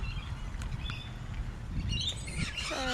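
Rainbow lorikeets calling from trees on Raymond Island at Paynesville, giving short chirps and squawks over a steady background rumble, with a busier burst of shrill calls near the end.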